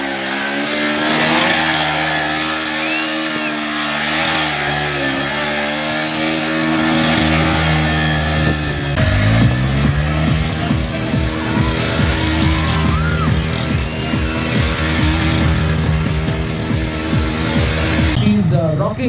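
A Bajaj Pulsar NS125 motorcycle at a college event runs loud and close, its engine revving up and down in strong surges while voices and crowd noise mix in around it.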